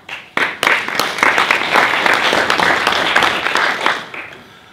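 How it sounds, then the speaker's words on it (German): Audience applause at a 2015 award ceremony for a sponsorship prize: a room full of clapping starts sharply, holds dense and steady for about four seconds, then thins and fades out. "Applaus"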